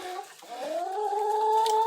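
A chicken gives a drawn-out, rising call close by, a single sustained note with no talking over it.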